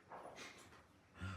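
A dog whimpers and whines in a few short, high bursts at close range, with a heavier low sound near the end; no one speaks.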